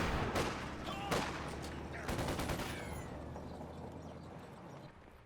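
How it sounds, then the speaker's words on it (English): An anti-tank gun in Company of Heroes 2 fires several heavy shots amid a busy battlefield, with sharp booms trailing into rumbling echoes and scattered gunfire. "here comes an AT gun"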